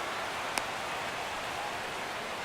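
Steady rain hiss in MLB The Show 17 during an Indians vs Red Sox baseball game, a broad even wash of falling rain with one brief sharp tick partway through.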